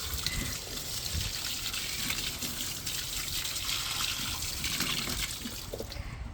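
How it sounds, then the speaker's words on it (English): Water from a hose or can pours steadily onto garden plants and leafy greens, a soft continuous trickle and splash with no talk. "Now let us water plants here."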